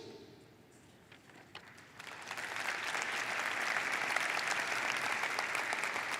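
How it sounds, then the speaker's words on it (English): An audience at a university presidential inauguration ceremony bursts into applause, the clapping swelling from scattered claps into a sustained, fairly distant ovation. "so you can keep clapping"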